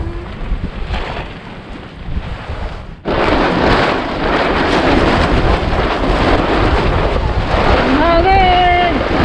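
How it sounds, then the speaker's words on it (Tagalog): Strong wind buffets the microphone over rough sea waves from a boat, a loud continuous roar that surges louder partway through, with brief voices toward the end. "Hangin!"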